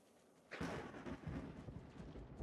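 Thunder rumbles from a stormy sky in the Wartales video game, a sudden crack followed by a sustained rolling rumble with rain hissing underneath, heard alone.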